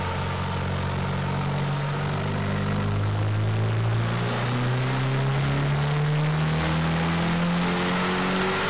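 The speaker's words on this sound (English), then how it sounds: "we'll make another pull on the dyno" A turbocharged car engine pulls hard on a dyno with a boost controller set to 25% duty cycle, giving a loud, continuous roar whose pitch climbs steadily from start to finish, with no talking.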